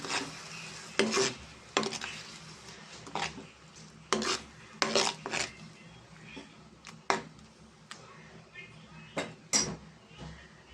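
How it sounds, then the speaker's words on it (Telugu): Tomatoes fry in a pan for spicy fish curry, with repeated sharp scraping strokes of a spoon against the pan at an uneven rhythm over a low sizzle. "దీంట్లో మనం టమాటా వేసేసుకుందామండి ఇది కూడా కొంచెం పచ్చివాసన పోయేదాకా మనం ఫ్రై చేద్దాం"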